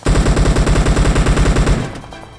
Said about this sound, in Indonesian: Oh, tembak dari jauh ya.